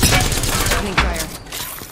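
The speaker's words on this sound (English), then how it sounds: "Opening fire." Apex Legends gunfire: loud, rapid bursts of automatic weapon shots blending into a dense fusillade, with a sharp crack near the middle and sustained firing throughout.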